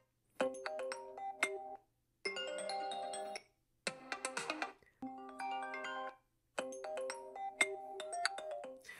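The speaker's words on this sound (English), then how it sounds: "in the ringtone selection, you will notice we got a lot of custom ones" A bright iPhone ringtone on iOS 26 plays in five short bursts of chiming melodic notes, separated by brief silences, clear and close.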